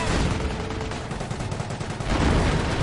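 Sustained automatic gunfire from Company of Heroes, a World War II real-time strategy game, with dense continuous bursts of armor-piercing machine guns filling the scene and intensifying toward the end, with no talk.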